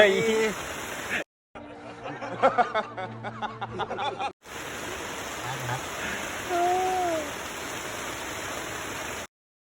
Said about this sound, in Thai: ฝนตกอยู่เนาะ